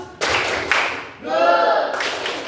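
A classroom of students clapping hands together in a burst of applause, dense and close, starting abruptly and rising again midway with a brief voice-like tone mixed in.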